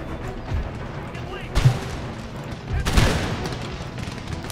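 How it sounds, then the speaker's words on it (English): Howitzer artillery in Empire: Total War fires as two heavy booming blasts over ongoing battle noise and distant musket crackle, fairly close and loud. "Keep the howitzers engaging."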